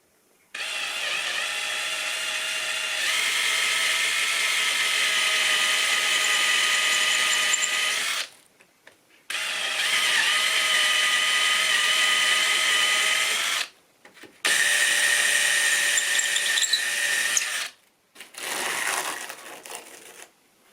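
A power drill bores a hole into a wall for a curtain pole, whining and grinding loudly in three long bursts separated by short pauses, close and without talk.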